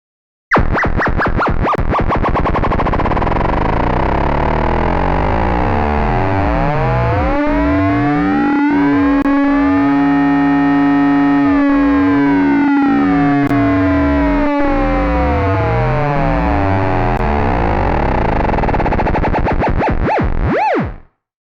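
A loud synthesizer tone with its pitch modulated by an LFO, wobbling in a sweeping pattern that speeds up into a buzzing, distorted growl, then slows again before cutting off.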